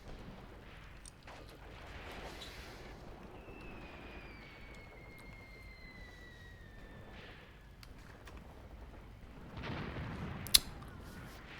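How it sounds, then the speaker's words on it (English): Smoke mortars firing in Graviteam Tactics, a WWII tactical game, with dull distant thumps over steady rain-like battlefield noise, a louder burst near the end and a sharp crack. "They're still shooting the smoke mortars at us."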